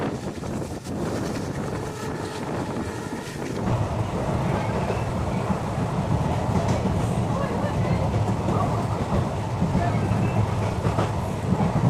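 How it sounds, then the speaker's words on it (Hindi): A train passes the outer approach of Firozpur Cantt junction on a line being electrified, heard from on board as a loud continuous rumble with clattering wheels and wind buffeting the microphone, swelling in intensity partway through. "इस वक्त हमारी ट्रेन गुजर रही है फिरोजपुर कैंट जंक्शन के आउटर से"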